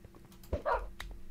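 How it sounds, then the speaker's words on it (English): In a modded Minecraft game, dogs give a few short, sharp barks and yips, spaced unevenly over a quiet background. "these dogs are driving me crazy"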